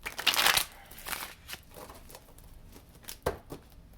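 Tarot cards shuffled by hand: a close, brisk riffle of crisp paper flutter, followed by softer taps and slides as single cards are drawn and laid down.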